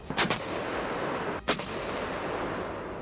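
A German howitzer fires in a war setting: two loud booming artillery blasts about a second apart over a dense, rumbling background, with no speech.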